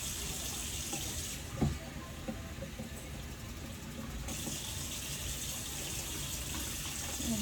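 Two cups of water poured into a pot of chili, a steady running wash of liquid that lasts several seconds, moderately loud and close, with no talking.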